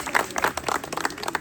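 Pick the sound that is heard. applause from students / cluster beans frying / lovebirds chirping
applause from students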